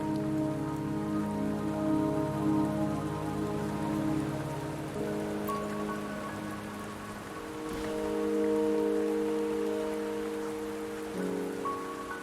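Steady rain patters in the video game Wuthering Waves, a soft continuous hiss beneath sustained background music that swells and shifts, with no voices.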